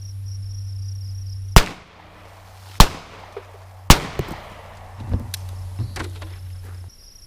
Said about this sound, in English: we'll start by shooting 5 yards with our 9mm